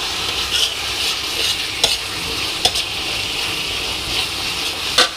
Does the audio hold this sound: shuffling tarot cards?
no